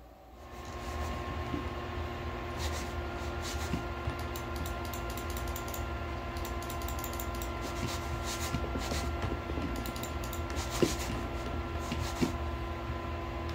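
A gaming PC with a Ryzen 5800X3D CPU in an SGPC K39 v3 case gives off a steady, even fan whoosh with a faint hum, while scattered light keyboard clicks tap over it throughout.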